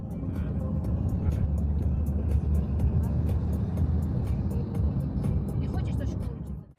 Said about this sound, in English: I'm in a car in a shared taxi to the border.